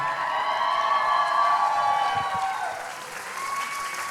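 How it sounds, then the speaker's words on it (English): Wedding reception guests applaud and cheer for the newlywed couple Neil and Prina, a steady, dense round of clapping with whoops that fades slightly near the end. "big round of applause for Neil and Prina"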